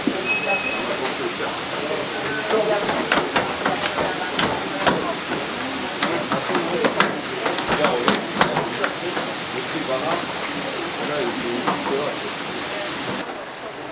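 Steam hisses steadily from a lavender distillation apparatus in Provence, heated by a wood-fired boiler, with clicks and knocks over the broad rush and some background voices.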